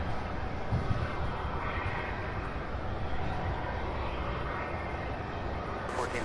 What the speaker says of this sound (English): I believe we're about to have an MD-11 take off for JFK on the other side on 35 right